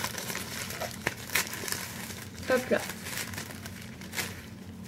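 A small plastic gift bag crinkles and rustles in short bursts, close and fairly quiet, with a person speaking briefly over it.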